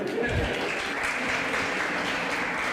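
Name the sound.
audience clapping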